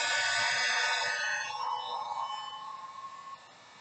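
A heat gun warms epoxy on a beach tumbler, giving off a steady airy hiss and high whine that slowly fades and tapers off toward the end.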